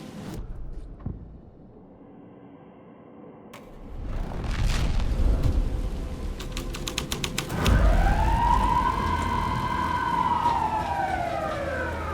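A police car siren in the video game Alan Wake 2 wails up and down after clicks and a rumble, a loud rising and falling tone sustained over low engine-like noise.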